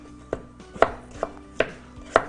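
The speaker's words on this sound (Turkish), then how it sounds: "patates doğrarken hele çok patates doğrayacaksanız" A knife chops potatoes on a cutting board in five crisp, evenly spaced strikes with a faint hum underneath, no one speaking.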